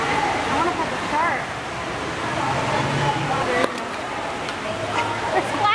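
Rushing, splashing water fills the clip, with people talking over it and a few sharper splashes toward the end.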